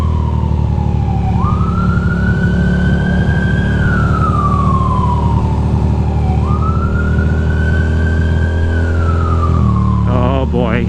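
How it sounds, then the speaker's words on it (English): Ambulance siren wailing loudly on a rainy night street as a Ducati motorcycle rides past, rising and falling sweeps repeating over a heavy engine and road roar. "I need to pass this ambulance."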